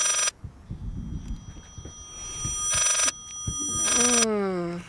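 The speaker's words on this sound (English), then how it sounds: "Is that an old phone?" An old telephone rings in the horror video game Layers of Fear, sounding in two bright, loud bursts that are separated by a pause, followed by a descending warped tone, while someone talks underneath.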